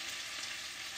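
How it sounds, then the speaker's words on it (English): Food frying noisily in a pan while marshmallows wait to be added, a steady dense sizzle and crackle filling the whole moment, close and constant with no pauses. "Listen to the sizzle."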